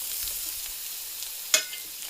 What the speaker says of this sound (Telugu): ఇప్పుడు దీనిలోకి మనం తరుక్కున్న పొట్లకాయ ముక్కలండి. ఓకే, వేసేసుకుందాం.